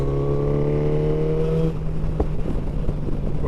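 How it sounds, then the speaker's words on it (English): A motorcycle fitted with a full exhaust system revs hard with a deep, rich engine note, then drops off sharply partway through into a lower rumble, loud and close with no talking. "Oh, I do love the sound this bike makes."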